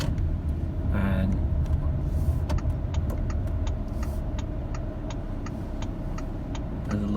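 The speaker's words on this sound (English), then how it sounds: "there's a lot of car queuing." Cars idle in a queue at a drive-thru COVID-19 test site in Kota Samarahan, a low steady engine rumble from inside a vehicle with a regular indicator ticking over it and a brief voice early on.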